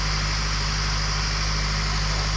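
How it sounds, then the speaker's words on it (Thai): A Chevrolet Trailblazer engine runs with the bonnet closed after an air-conditioning repair, a loud, steady, close drone with a constant hum and no clear rise in revs, and no talking. "ปิดฝากระโปรงเร่งเครื่อง"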